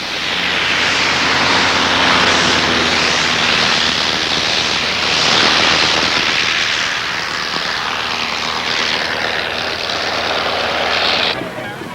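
Vintage Avro biplane, an early warplane later used as a trainer, flying at an airshow: a steady droning propeller engine passing fairly close and loud for the whole stretch, swelling and easing slightly as it moves.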